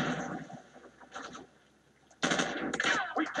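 Gunfire from the video game Call of Duty 4: loud close bursts of automatic shots, a fading first volley, a lull, then a second sharp, dense burst.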